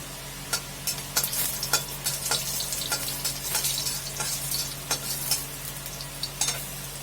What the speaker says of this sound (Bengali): এলাচ আর দারচিনি ফোড়ন দিলাম।